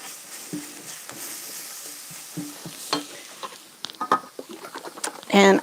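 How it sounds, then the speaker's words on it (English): A spoon scrapes and stirs a quarter cup of flour into hot fat in a pan for a roux, with a soft sizzle under irregular clinks and scrapes that grow busier toward the end. "So here's 1/4 cup of flour. And we'll stir that in to get a roux."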